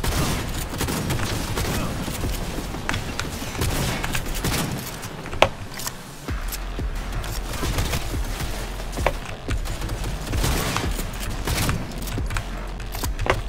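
Sustained gunfire in Cyberpunk 2077 fills the scene: dense, continuous bursts with a few sharper, louder shots standing out over a constant rumbling battle backdrop.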